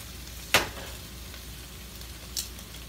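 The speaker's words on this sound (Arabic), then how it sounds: "اروح مرجعه الارانب تاني الحله." Rabbit meat with onion, pepper, tomato paste and spices sizzles steadily in a pot, a soft continuous frying hiss broken by two brief scraping clatters.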